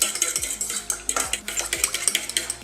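Egg white and cinnamon mix being stirred briskly with a utensil against a bowl, giving rapid, regular clinks and scrapes, close and clear, with no talking.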